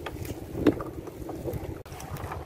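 Strong wind buffets a small fishing boat on the Tien River in Dong Thap, a continuous rough rushing and microphone rumble, close and fairly loud, with a faint voice briefly under it.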